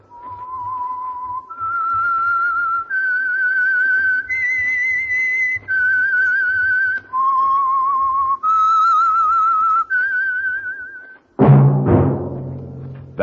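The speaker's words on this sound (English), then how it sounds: "That whistle is your signal for the Signal Oil Program" A clear, melodic whistled signal tune for an old radio drama steps through several sustained notes, loud and alone, then ends with a sudden burst of orchestral music.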